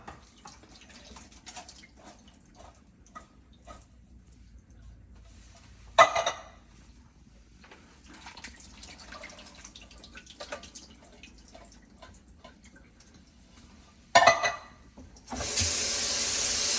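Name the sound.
draining and rinsing canned beans under running water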